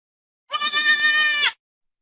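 A single goat bleat, one wavering, nasal cry lasting about a second, close and clear against silence.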